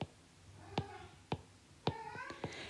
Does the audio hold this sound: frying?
no